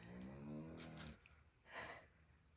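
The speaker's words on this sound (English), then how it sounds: "We now have one of the dogs snoring very loudly in the background." A dog snores loudly close by, two long rasping breaths with a pause between, heard with no talk over it.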